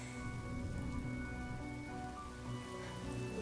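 Soft, steady rainfall patters in a video game, heard quietly beneath sustained tonal background music.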